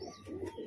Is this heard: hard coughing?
no